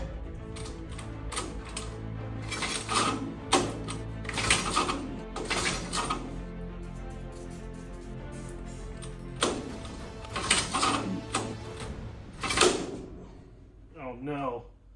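The homemade wasteland racer's engine cranks in repeated bursts while a throttle is worked, giving rhythmic mechanical churning that surges and stops several times, loud and close, with voices mixed in.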